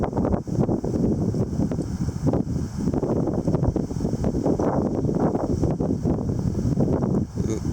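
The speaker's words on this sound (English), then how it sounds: "Ooh, decent breeze coming in. Decent gust, I should say." Strong gusty wind buffets the microphone in Kelowna, BC, a loud, continuous rumbling roar with surging bursts throughout and no talking.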